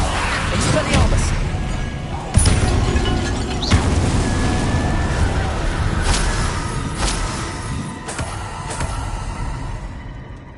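Spell effects in the Hogwarts Legacy game as Expelliarmus is cast: a dense run of magical bursts, booms and whooshes, with sharp cracks near the start and middle over a constant loud rumbling bed.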